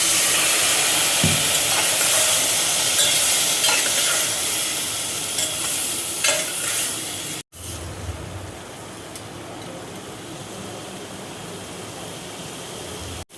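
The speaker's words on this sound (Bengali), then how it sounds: "অল্প করে জল দিয়ে দেখো আমি ভেজে নিচ্ছি" Spices frying with a splash of water in a pan for a veg paneer dish, a loud, dense hiss of sizzle and steam that is steady at first, then drops to a quieter simmer after a brief cut.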